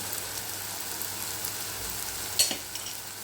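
Ridge gourd mixture with cumin and fenugreek powder being stirred in a pan, a soft continuous scraping and faint sizzle with one sharper clink of the utensil near the middle, no talking.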